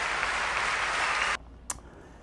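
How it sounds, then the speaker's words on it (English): Standing ovation for a singer after her Traviata performance, a dense wash of clapping that stops abruptly, followed by near silence and one brief sharp sound. "you guys saw that standing ovation"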